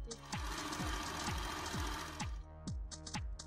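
Domestic sewing machine stitching velvet fabric for a turban headband, a steady close whirring run with rhythmic needle thumps, then a few short stop-start bursts at the end.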